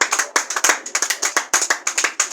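A church congregation claps together in a quick, uneven rhythm of sharp, close hand claps that runs without pause, with no voices over it.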